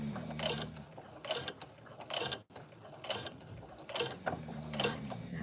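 A sewing machine stitches fabric for craft fair items, running in short bursts of rapid mechanical whirring and clatter separated by pauses, close and clear with no talk.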